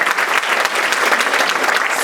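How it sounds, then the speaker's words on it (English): Dense, steady applause from a large audience at a women's summit, many hands clapping together at close range with no pauses and no voices over it. "You can applaud."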